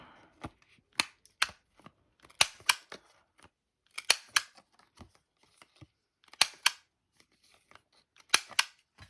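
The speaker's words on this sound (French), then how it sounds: "je vais couper les bords, enfin, les coins, avec une petite perfo d'angle" A small corner punch clips the corners of a laminated card, producing sharp, close snapping clicks in quick pairs and clusters separated by short pauses.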